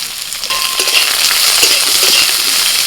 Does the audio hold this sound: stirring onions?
yes